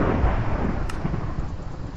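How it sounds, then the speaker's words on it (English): Thunder rumbles in the Minecraft modpack FTB Skies 2, a steady low roll with one brief sharper crack partway through, fairly loud and without any talk. "Oh, it's thunder."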